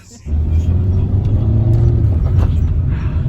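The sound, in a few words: car engine straining while driving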